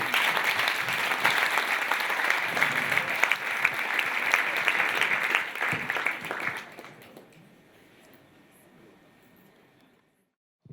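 Audience applause fills a late-night Italian show venue, a loud dense wash of clapping that holds steady for about six seconds, then thins and fades to near silence.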